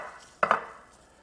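An unlevel dish rocks and rattles against a kitchen counter in two quick close clattering knocks, followed by a faint fading ring, with no talking.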